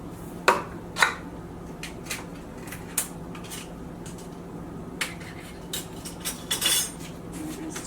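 A spoon scoops thick cream of mushroom soup into a cooking pot, giving a few soft metallic clinks and scrapes against the pot at irregular intervals over a low steady kitchen hum.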